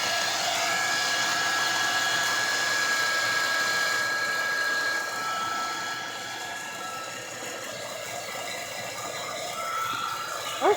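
A hair dryer blows steadily on handmade vintage-style paper, a loud continuous close whoosh that drops slightly midway and holds to the end, with a brief knock at the very end.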